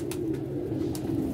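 A female pigeon coos in a low, rounded, throbbing call, close and steady through the whole short stretch, with no voices.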